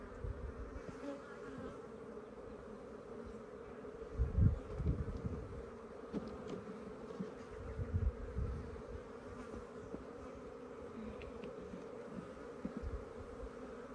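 Africanized honey bees buzz in an open hive, a faint steady hum with individual bees droning past close to the microphone now and then, and no talking.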